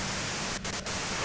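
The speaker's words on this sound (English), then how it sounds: "you can do it through the white noise" Radio static in the video game Disco Elysium: dense, loud, full-band hiss that runs steadily, with two brief dropouts partway through before the noise resumes.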